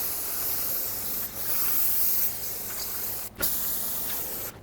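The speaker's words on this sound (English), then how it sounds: "I'm going to use brake parts cleaner. Just give it a good rinse." Brake parts cleaner sprays out of an aerosol can to rinse brake dust off the rear brakes of a 2009-2013 Honda Fit, a close, steady hiss in long bursts broken by a few short pauses.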